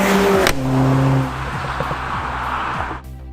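A Mercedes CLA 45 AMG revs hard through quick gearshifts, a rising engine note cut by a shift and followed by sharp exhaust pops and crackles near the end, loud and close with no talk.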